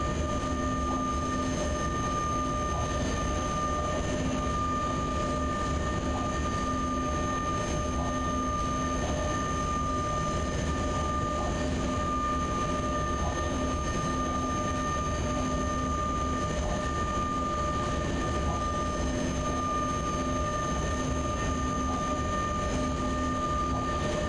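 An E186 TRAXX electric locomotive in the SimRail railway simulator game gives off a steady, continuous rumble with a constant whine layered over it as it runs along the track, with no talking.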